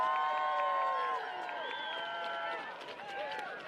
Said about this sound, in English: let's have a nice round of applause for both teams